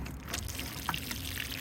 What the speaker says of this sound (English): We'll give them a drink of the fertilized water.